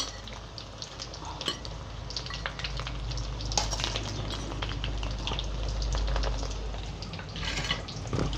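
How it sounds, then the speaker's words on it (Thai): Pork fries in a pan with a steady crackling sizzle and some stirring clatter. It is close and holds at an even level throughout, with no talking. "ทอดไปเรื่อยๆเนาะค่ะเนาะ"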